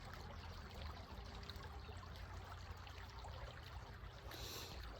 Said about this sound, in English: I am going to move the camera to face the creek